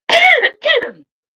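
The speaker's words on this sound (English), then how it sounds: "Pardon my cough" A person coughs or clears their throat twice in close succession, loud and near, with no speech around it.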